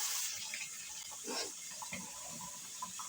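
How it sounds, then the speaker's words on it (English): A kitchen tap runs quietly while hands are washed beneath it, a soft uneven splash of water with small shifts as the hands move through the stream. "Okay, wash the hands."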